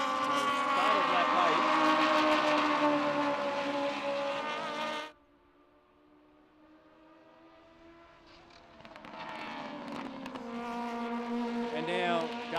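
Race cars, including a Triple Eight Engineering car, roar around a circuit in ARDC racing. A loud, rising and falling engine whine drops away abruptly, then builds again as more cars approach and pass.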